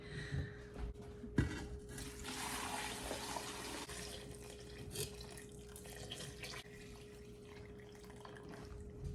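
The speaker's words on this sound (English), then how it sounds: "I'm about to pour it over the pickles" A steady rush of boiling water, mixed with alum, pouring over pickles for several seconds, with a sharp clatter early on and a faint constant hum underneath.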